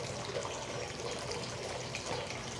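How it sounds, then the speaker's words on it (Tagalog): Hot water pours into a container for gel food, a steady soft splashing stream that continues evenly throughout, close and low in level. "Tapos lalagyan nyo lang ng tubig."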